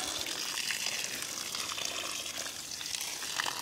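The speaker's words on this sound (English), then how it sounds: "It spills everywhere, doesn't it? It's got a couple of cracks in it." Water spills and splashes steadily from a cracked garden watering can, a continuous close gushing and pattering with no talk.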